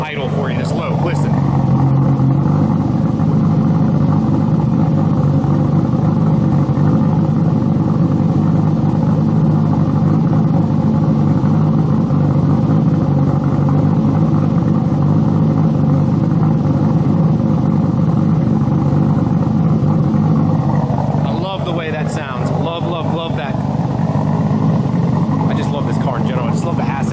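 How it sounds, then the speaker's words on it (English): A Toyota Supra engine with a running problem idles low and steady in a loud, continuous rumble, with a brief shift in tone near the end as a person speaks over it. "Before I turn the car off though, I wanna get this idle for you, this low."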